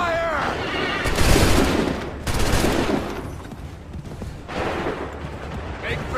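Musket volleys crack and boom in Assassin's Creed III, bursts of massed gunfire in three or four waves, with shouting voices amid the battle noise.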